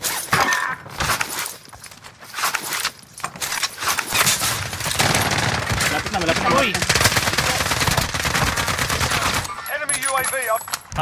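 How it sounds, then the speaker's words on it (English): Rapid machine-gun bursts in Call of Duty Warzone, with an AK47 in play, rattle loudly and nearly nonstop amid game chatter and clatter, easing briefly near the end. "Taking direct fire."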